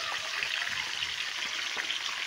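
Stuffed chicken cooks in a pot with a soft, steady sizzle and gentle bubbling that continues evenly at low volume, with no voices.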